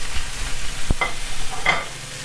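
Pozole meat browning in a pan gives a steady soft frying hiss, with a sharp clink of the pan near the middle and a brief stir or scrape a little later.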